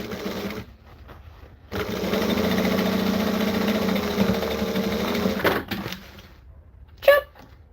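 A sewing machine stitching a drink bottle holder runs in one sustained whirring burst of several seconds, with a short run before it, then stops; a brief sharp knock follows near the end.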